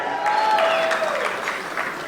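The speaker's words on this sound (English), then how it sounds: "About a round of applause for it" Audience at an ocean-conservation awards gala applauding the money raised, a steady wash of clapping that holds throughout with a faint tone or voice line over it early on.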